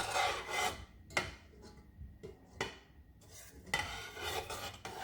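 A spoon stirs sugar syrup with citric acid and cardamom powder in a pot, making several separate scraping, rubbing strokes with short sharp knocks against the pot between brief quiet pauses.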